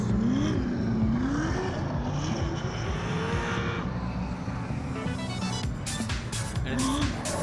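Saloon race cars in a teams race at Beachlands Speedway, several engines revving and roaring past with some tire squeal and rising, falling pitches, under a busy, noisy track ambience.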